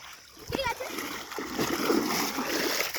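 Children jumping into a river from a bathing ghat, with one splash landing near the start amid rushing water and excited young voices.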